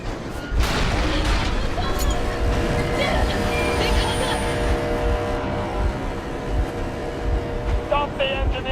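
Locomotive engine in the video game Metro Exodus rumbles steadily and loudly throughout, a dense mechanical drone with clanking and rail noise layered over it.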